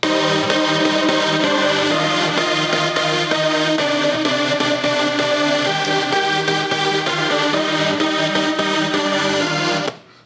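A third, distinct synthesizer layer joins a dense trance remix, giving a thick, bright wall of sound with steady rhythmic chopping that plays loudly for about ten seconds before stopping abruptly.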